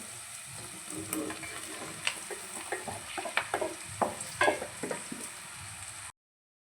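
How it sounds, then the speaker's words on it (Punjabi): Chopped onions and parwal (pointed gourd) frying and being stirred in a pan, a steady broadband sizzle with scattered scraping and clinking of the spatula, close and continuous with no talking. "ਲੋ ਜੀ 5 ਮਿੰਟ ਦੇ ਕਰੀਬ ਹੋ ਗਏ ਆਪਣੇ ਪਿਆਜ਼ ਭੁੱਜਦੇ ਨੂੰ ਹਲਕੇ ਨਰਮ ਹੋ ਚੁੱਕੇ ਨੇ ਹੁਣ ਪਾਵਾਂਗੇ ਚਾਪਾ ਕੱਟੇ ਹੋਏ ਪਰਵਲ"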